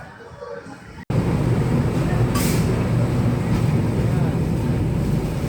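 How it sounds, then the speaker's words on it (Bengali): Saraighat Express pulls into Rampurhat Junction platform 2, a steady loud rumble of the train rolling in fills the station after a sudden cut, with brief voices under the noise. "ট্রেন এসে পৌঁছেছে রামপুরহাট জংশনের 2 নম্বর প্ল্যাটফর্ম"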